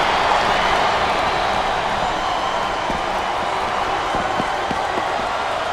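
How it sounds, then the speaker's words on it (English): Arena crowd noise from the WWE SmackDown vs Raw 2008 video game, a dense, steady roar of cheering at moderate level with a few faint thuds and claps beneath it. "This capacity crowd is making their opinions heard tonight."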